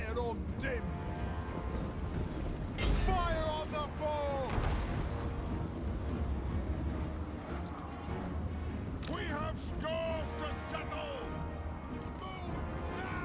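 Artillery units firing in the Total War: Warhammer game during a Dwarf campaign battle, heavy booming shots and crashes over a dense battle din, with voices and shouts layered throughout.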